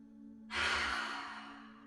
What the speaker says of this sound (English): a deep inhale in through the nose